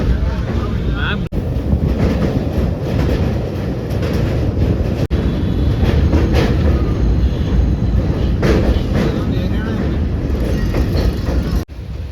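A loud, steady rumble with gusting wind buffeting the microphone, heard aboard a train as it pulls away from Delhi Junction and gathers speed.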